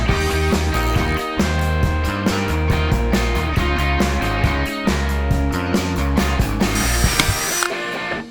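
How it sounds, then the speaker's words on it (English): Bolts for van roof-rack bars are cut down to size with a power tool, a loud continuous whining grind running steadily with brief dips and a short pause near the end. "I just need to cut down the bolts to an appropriate size"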